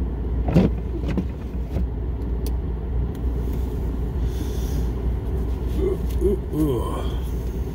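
A pickup truck engine runs after being started in sub-zero Alaska cold, giving a steady, close rumbling idle throughout, with a few brief vocal sounds near the end.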